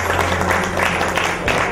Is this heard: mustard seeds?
no